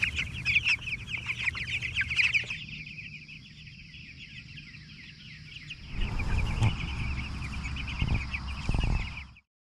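Chickens cluck and squawk close by, a busy run of calls that quiets midway, then picks up again with louder clucking.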